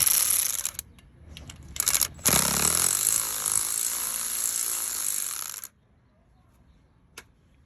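Wrench work on a bolt near the crankshaft position sensor of a 2010 Dodge R1500 pickup with a 3.7L engine: close metallic clicks and scraping rasps of tool on fastener, in sputtering bursts, ending in near silence.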